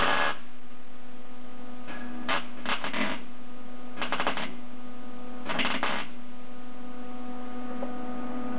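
A MIG welder lays weld on a rusted hole in the rear passenger floor and sill of a 1976 Mazda RX-5 Cosmo, short crackling bursts of arcing over a steady electrical hum, with gaps between them.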